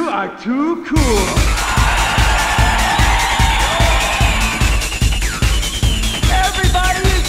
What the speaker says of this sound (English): Everybody is cheering.